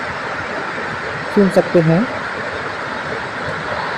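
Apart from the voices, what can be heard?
Handawada waterfall on Govindar river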